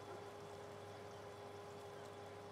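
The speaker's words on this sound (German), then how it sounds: "So, wir füllen schon mal hier Wasser ein" Water is filled into a tank in Farming Simulator 19, a steady continuous pouring rush with a constant mechanical hum underneath, no voices.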